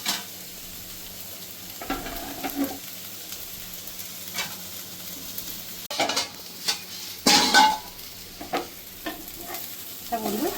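Chicken pieces for burgers fry in a pan over a gas flame, with a soft continuous sizzle broken by scraping stirs and utensil clinks against the pan.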